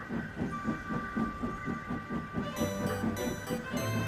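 A cartoon steam engine puffs steadily uphill in a quick, even chuffing rhythm with steam hiss, then a sustained whistle-like tone joins near the end.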